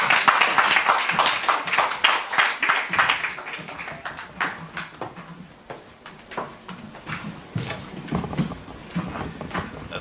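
A debate audience claps for its speakers, a burst of dense applause that thins into scattered, uneven claps.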